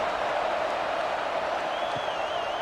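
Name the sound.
football stadium crowd noise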